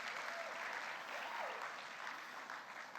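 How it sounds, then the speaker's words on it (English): A conference audience applauds steadily for volunteers, a dense, sustained clapping filling the room at an even level throughout, with a faint voice briefly audible beneath it. "Give them another round of applause for all the work that they've done this week."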